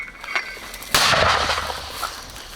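A single loud mortar shot booms out about a second in, its sharp blast trailing into a rumbling echo over faint background noise.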